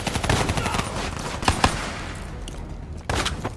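Rapid automatic gunfire in the Black Ops 3 campaign, dense bursts of shots with a pause in the middle before another loud volley, close and punchy.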